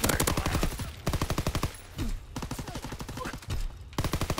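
Rapid automatic gunfire in Call of Duty Hardpoint multiplayer, dense rattling bursts nearly continuous across the clip with brief gaps, loud and close.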